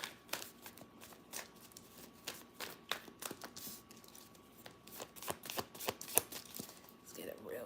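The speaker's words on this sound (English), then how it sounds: "Let's get a real good shuffle here." Tarot cards being shuffled by hand, a run of crisp riffling flutters and soft slaps in repeated bursts, close and moderately quiet, with a voice speaking lightly over parts of it.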